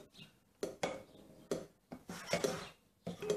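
A spoon stirs a gelatin mixture for giant gummy bottles, scraping and knocking against the bowl in a few separate strokes, close and quiet with gaps between.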